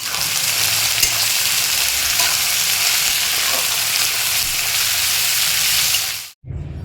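Vegetables for noodles, including bell peppers, capsicum, potato, onion, carrot, ginger and chilli, sizzle loudly and steadily as they are stir-fried in a hot pan, a close, continuous hiss that cuts off abruptly at the end.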